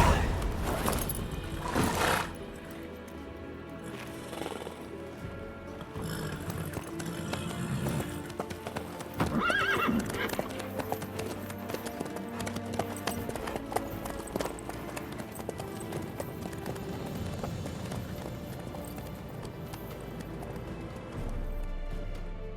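Horse hooves in The Witcher 3 clop along steadily over a long stretch with a rhythmic gallop and occasional snorts or whinnies, mixed with game ambience and some scattered louder knocks, with no speech.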